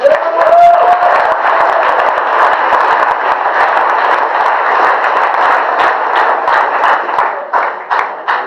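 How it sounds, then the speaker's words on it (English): A live crowd at a team competition event applauds and cheers, dense steady clapping mixed with shouts that fills the whole stretch, loud and close, with a brief whistle-like tone near the start. "Let's give them a big round."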